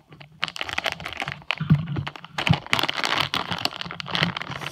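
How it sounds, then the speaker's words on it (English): Crinkling plastic crackles in bursts close by as scissors cut open a Shopkins, Littlest Pet Shop or Minions blind bag, with snips and rustles coming in irregular clusters. "you're going to have to use scissors to open it up"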